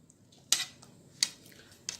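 Chopped red apples added to a fruit pudding mixture: three sharp utensil clinks against a bowl, spaced unevenly over a quiet background.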